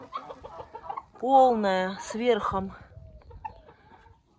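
Farm hens cluck in a henhouse where eggs are being gathered, a few rising clucks in a short burst with someone talking briefly before and after.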